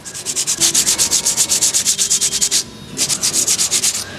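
Rapid rhythmic scratching of sandpaper rubbing back and forth, close and steady, with a brief pause before the strokes resume.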